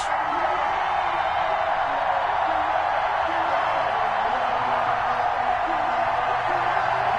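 Steady roar of a sold-out stadium crowd in an NFL football video game, Bills hosting the Steelers, a dense continuous wash of cheering that holds at a loud, even level from start to finish.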